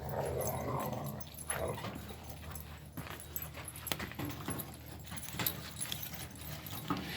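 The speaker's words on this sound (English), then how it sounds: "I'll let you guys see the dogs go at it for a little bit." Dogs playing rough in the snow, with growls, scuffling and panting, close by and fairly loud, with no talk.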